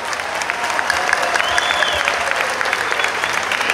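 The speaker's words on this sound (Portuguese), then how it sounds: "Palmas para todos os responsáveis que organizaram esse evento." A large audience applauds at an outdoor orchestra concert at a city anniversary festival in Artur Nogueira, a dense, steady roar of clapping with no break, loud and close.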